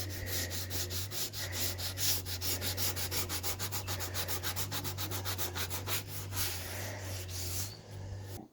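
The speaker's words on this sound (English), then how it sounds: "sanded the unit and cleaned it all" A wooden chest of drawers being sanded by hand, close rhythmic back-and-forth rubbing strokes at a steady pace, stopping near the end.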